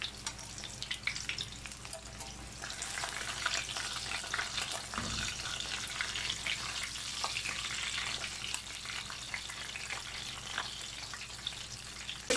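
Freshly caught fish fries in a pan with a steady, close crackling sizzle, plus occasional spatters and a brief low thump, and no voices.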